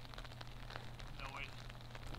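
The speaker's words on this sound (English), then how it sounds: "the rain picking up a little bit here" Steady rain patters across a golf course, a soft continuous hiss with no clear individual drops, filling the whole moment alone.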